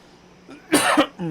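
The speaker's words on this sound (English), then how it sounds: "we're still coughing away, still battling with that" A single close cough, a couple of sharp hacking bursts, preceded and followed by brief quiet vocal sounds.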